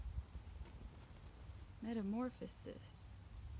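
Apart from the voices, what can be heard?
cricket chirping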